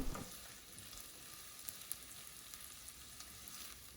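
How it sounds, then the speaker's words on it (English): Onion frying in shortening in a skillet, a steady close sizzle with faint crackles and pops throughout and no voices. "now we are going to cook and stir the onion in shortening until tender"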